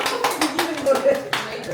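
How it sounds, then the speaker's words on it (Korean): Short burst of hand clapping from a group at a casual company dinner party, sharp scattered claps over a few seconds while voices chatter underneath. "박수 한번 주세요."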